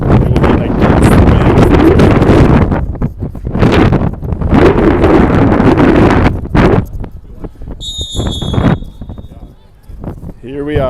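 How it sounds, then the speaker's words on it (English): Strong wind buffets the microphone at an outdoor youth soccer game, a loud roaring rumble in long gusts that dips briefly before surging again, with faint whistles near the end. "there is so much wind right here, you guys"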